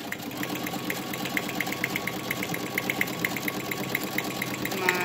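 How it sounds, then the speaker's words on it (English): A home sewing machine stitches the ends of a Teflon pillow, running with a fast, steady mechanical chatter and a faint hum, close and moderately quiet, with no talking. "my sewing machine is currently shaking the camera"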